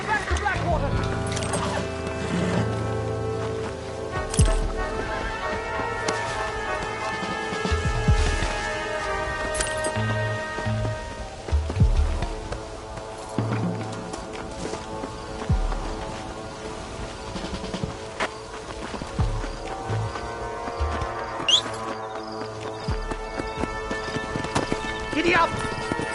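In the video game Red Dead Redemption, a horse gallops with a rapid, rhythmic clip-clop of hooves, and voices talk over the hoofbeats throughout.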